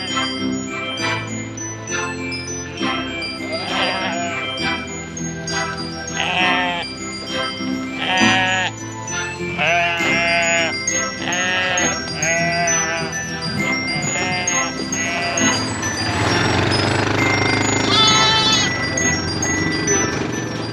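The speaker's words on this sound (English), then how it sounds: "Hello, the sheep." A flock of sheep being herded near Ullswater bleat loudly and repeatedly, overlapping calls from nearby, with faint bells jingling in the background.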